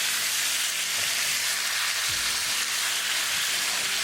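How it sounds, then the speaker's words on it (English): Bite-sized fish pieces dropped into hot spiced tadka in a pan give a loud, steady, close sizzle and crackle, with faint stirring scrapes and no talking. "Now I'll add fish. Nice bite-sized pieces. Mix it well with our tadka."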